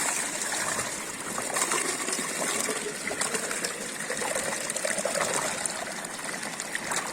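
Water pours steadily from a micro hydro pipe into a 5-liter bucket, a continuous close splashing gush that holds an even level throughout, with no talking.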